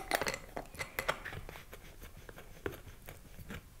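A lid is fitted back onto a rotary tumbler barrel holding precious metal clay pieces in diluted burnishing solution, giving a cluster of close, light plastic clicks and scrapes, with a firmer knock near the end.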